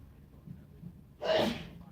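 A single sneeze bursts out loud and close after a few seconds of quiet room tone, with a sharp breathy onset and short tail.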